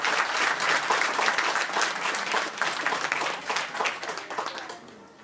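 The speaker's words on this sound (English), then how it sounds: "Let's give him a round of applause" Sustained applause from a graduation ceremony audience for a graduate, dense steady clapping that fades toward the end, with no voices over it.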